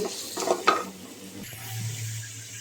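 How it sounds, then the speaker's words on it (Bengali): Onions frying in mustard oil for a village-style ol bhorta (elephant foot yam mash): a few clinks and scrapes of stirring early on, then a steady, close sizzle with no talking. "পেঁয়াজগুলো একটু ভেজে নেব সরিষার তেল"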